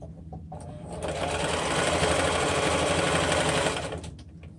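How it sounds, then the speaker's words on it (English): Sewing machine stitches across a bucket bag strap tab in one steady, close burst of rapid mechanical whirring lasting about three seconds, quiet before and after. "I'm just going to sew across to secure this in place."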